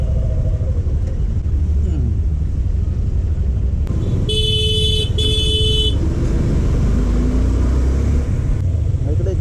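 Busy city road traffic with engine rumble throughout and two clear car horn honks, each about a second long, in the middle; near and loud, with faint voices in the background.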